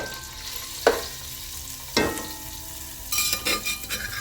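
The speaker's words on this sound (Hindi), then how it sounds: "अब इसके अंदर डालेंगे अदरक लहसुन।" Crushed ginger and garlic frying in about a cup of hot oil for biryani, a steady soft sizzle with a few sharp scrapes and clinks of a spoon stirring against the pot, no talking.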